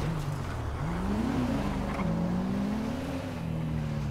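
A BMW with its engine humming steadily close by, the pitch rising and falling gently as it rolls up at low speed, with a continuous low rumble of road and engine.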